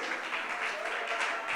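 A church congregation claps together in a brief, dense burst of applause, steady and moderately loud, with no talk over it.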